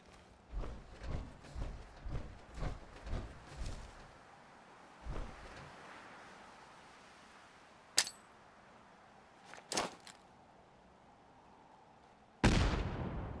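In Fallout 4, a run of evenly spaced gunshots comes first, then a few isolated sharp cracks and a loud final blast, likely a grenade explosion, all under quiet background ambience.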